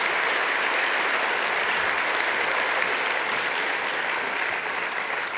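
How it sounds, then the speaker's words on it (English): Warm, sustained applause from graduates and guests at an INSEAD MBA graduation ceremony, thick even clapping from a large crowd that holds steady throughout and eases slightly at the very end. "And I think we should applaud him again."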